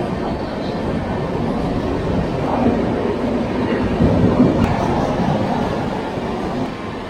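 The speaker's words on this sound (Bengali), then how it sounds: "আমাদের গন্তব্য সাঁতরাগাছিতে আমরা পৌঁছে গেছি, আর তার সাথেই হাওড়া বালবে জনশতাব্দী এক্সপ্রেস পাস হচ্ছে" The Howrah Jan Shatabdi Express passes through Santragachi station as a loud, continuous rumble with rolling wheel noise that swells slightly midway and holds steady throughout.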